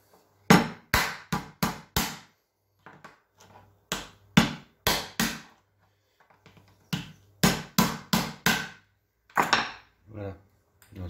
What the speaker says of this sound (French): Voilà, on va maintenant casser le crabe et le réserver. Alors bon, bah moi je fais au marteau, hein.